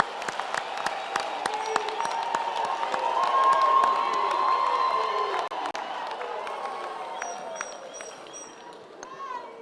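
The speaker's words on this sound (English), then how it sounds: "I think we can give our graduates another hand of applause." Graduation ceremony audience in a large hall applauding and cheering, a steady wash of clapping with shouts rising and falling over about ten seconds, moderately loud and continuous throughout.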